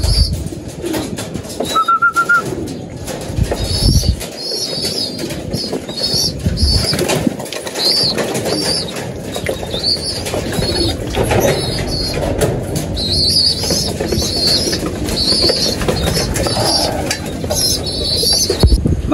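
Racing pigeons being prepared for a race flutter their wings and coo in their loft, a steady busy mix of flapping, cooing and chirps running throughout at close range.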